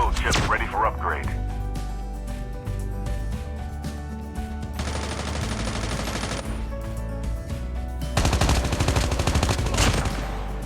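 Rapid automatic gunfire bursts in Call of Duty Mobile during an intense match, loud and continuous against game music and effects, with repeated volleys layered over the soundtrack.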